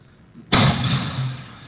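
Fireworks shot into the sky in celebration, one sharp loud burst after a quiet start, then a fading hiss and rumble.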